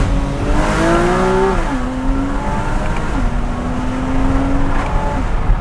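A Porsche Cayman S engine pulls hard, its pitch climbing steadily, then dropping sharply at each quick paddle upshift before rising again. The engine note is loud and close, with no talk over it.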